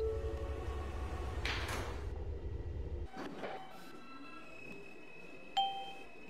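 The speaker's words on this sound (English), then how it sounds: "Stand clear of the closing doors, please." R160 subway train doors closing on the L line to Canarsie in the Roblox game: a steady train rumble cuts off, followed by electronic door chime tones and a sharp thud as the doors shut.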